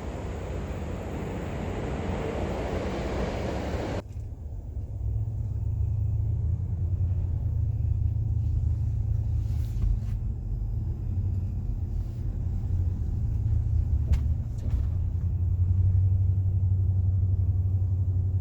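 A car towing another car, an LTD, as part of a turbo LS swap project, gives a steady low engine and road rumble inside the cabin, loud and continuous throughout, with only faint brief ticks above it.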